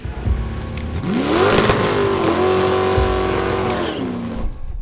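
A Ford Ranger no-prep drag race truck launches down the track on its first run, its engine revving hard and holding a loud, rising and steady roar close by before easing off.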